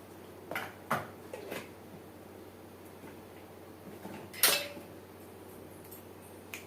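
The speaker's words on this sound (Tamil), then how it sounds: "இப்போ இது கடுகு பொரிஞ்சுட்டு இருக்கு" Mustard seeds splutter in hot oil, giving a few sharp, scattered pops over a low background hiss. One crackle stands out as louder near the end, and no one talks.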